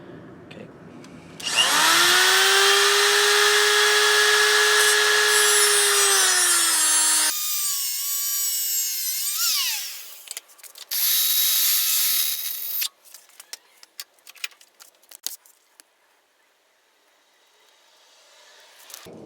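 A power tool cuts through a steel bolt with a loud, high, whining screech that holds for several seconds, dips as the tone shifts, then returns in a second burst before scattered clicks and handling noises. No one talks.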